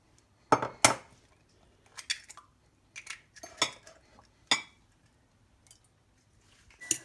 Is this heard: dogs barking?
no